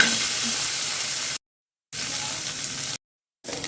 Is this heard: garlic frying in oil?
yes